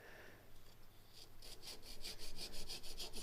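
A handsaw cutting off a piece of wood during a woodworking demonstration, quiet rhythmic rasping strokes that grow steadily louder and faster toward the end, heard alone without talk.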